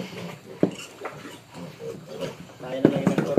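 Pigs on a farm grunt and oink in short bursts, close by, alongside people talking.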